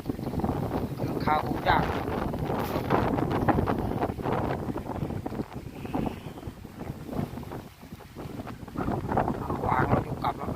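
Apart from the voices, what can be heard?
strong wind blowing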